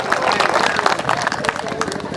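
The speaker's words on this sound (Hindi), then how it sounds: "एक बार तालियां बजानी है, जोरदार तालियां बजानी है।" An audience at a live Hindi kavi sammelan poetry gathering claps energetically, a dense, loud, continuous patter of many hands with crowd murmur mixed in.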